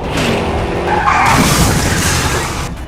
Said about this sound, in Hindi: अचानक बाइक दिखी, इधर उधर हुई और फिर रेलिंग से टकरा कर बिखर गई।